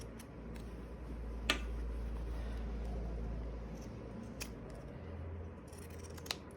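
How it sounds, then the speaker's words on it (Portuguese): Pinking shears cutting fabric for a patchwork cushion in steady snips with a few sharper clicks, close and fairly soft over a low background hum, no talk. "Eu aqui vou cortar com a de picotar, que a tesoura de picotar não deixa também o tecido desfiar"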